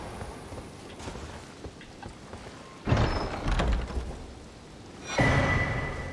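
A treasure chest creaks open in Elden Ring inside a lakeside crystal cave, two swelling rumbling thuds about two seconds apart over quiet ambient background, with no speech.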